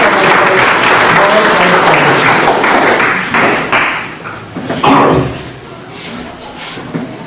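Loud, dense audience applause at a school toppers' interview event as a guest is called to the stage, sustained for several seconds and then thinning into scattered claps and room noise.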